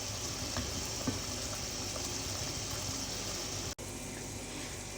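Creamy Alfredo sauce bubbling in a pan over a medium flame, a steady close hiss and simmer that runs unbroken, with one brief dropout near the end.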